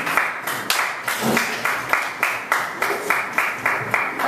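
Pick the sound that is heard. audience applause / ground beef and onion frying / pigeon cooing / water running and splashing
audience applause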